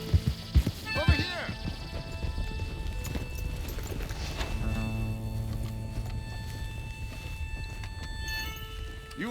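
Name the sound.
horse galloping in video game Red Dead Redemption 2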